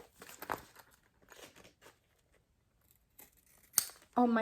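Scissors snip through excess fabric tabs on a fold-over clutch, giving a few short crisp cuts with quiet gaps between them, close to the mic and with no talk.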